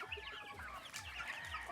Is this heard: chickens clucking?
yes